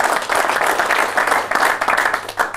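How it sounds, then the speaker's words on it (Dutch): A television studio audience claps steadily for a guest on a local talk show, a close, continuous wash of applause with no voices over it. "Graag een groot applaus voor Wieger."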